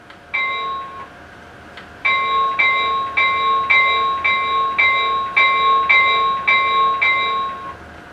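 A Conventional Classics F-3 model locomotive bell rings steadily, a bright repeating clang about once a second after a brief first tone, close and clear.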